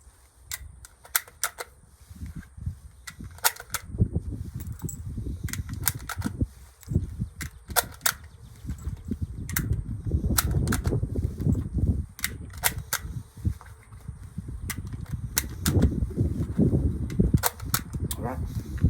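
Norinco 84S rifle firing a string of rounds outdoors, sharp cracks coming irregularly in quick bursts and singles over a steady low rumble, with voices murmuring in the background.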